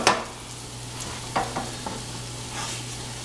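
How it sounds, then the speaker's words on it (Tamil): Onions sautéing in a pan for kothu parotta, a low steady sizzle with a few brief stirring scrapes and clinks, quiet and close with no talking. "வெங்காயத்தை நல்லா வதக்கிக்கோங்க"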